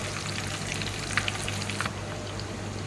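Fish frying in hot oil in a home kitchen: a steady, dense sizzle holds throughout, close and loud, with a few brief crackles and no speech.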